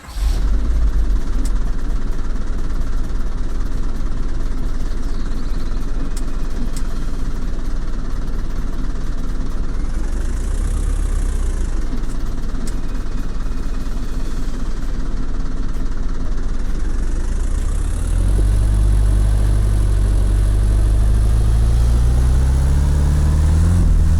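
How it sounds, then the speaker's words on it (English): Steady engine drone of a car on oversized big wheels in the driving game Untitled Trip, loud and continuous, deepening and rising in pitch near the end as it accelerates, with no talk. "It's time to drive with the big wheels."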